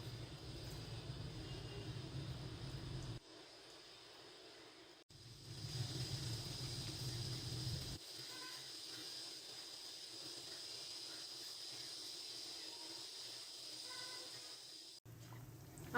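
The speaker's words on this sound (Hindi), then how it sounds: "एक पैन के अंदर हम ऑयल गरम कर लेंगे और यहाँ पे अब हम इसे मीडियम फ्लेम पे फ्राई" Fish frying in hot oil in a pan over a medium flame: a steady broadband hiss and sizzle that shifts in level a few times, continuous and close, with no speech.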